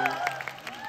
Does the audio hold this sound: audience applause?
yes